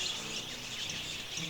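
A flock of wild budgerigars at a waterhole, many small birds chirping and twittering together in a continuous busy chatter, fairly faint and distant, with no voices.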